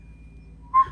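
A short whistle sounds near the end of a quiet stretch in a room, one clear brief tone rising out of low background hum.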